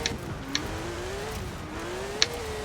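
Car engine in an online Subaru versus Mitsubishi racing game, a steady droning hum with slowly wavering pitch under a couple of brief sharp clicks, no voices.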